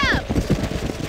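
Horse hooves galloping in Red Dead Redemption, a rapid, rhythmic drumming of low thuds, opened by a short whinny-like cry over a busy outdoor game soundscape.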